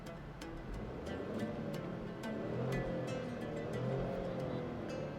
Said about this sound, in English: let you hear this engine at a standstill.